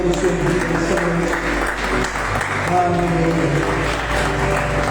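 Church congregation clapping during a Sunday evening worship service, steady sustained applause filling the room while a preacher talks over it, with music or voices beneath.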